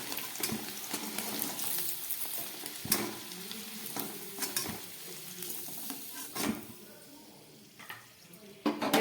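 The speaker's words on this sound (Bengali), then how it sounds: "এবার এই তেলের মধ্যে আমি এই ডিমগুলোকে ভেজে নিচ্ছি।" Eggs frying in hot oil, a close sizzle and crackle with intermittent spatula scrapes and knocks against the pan, fluctuating in loudness over several seconds.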